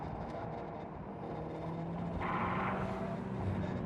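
A turbocharged Mazda MX-5 NC pulls hard in second gear, its engine a steady, close rumble that swells louder partway through.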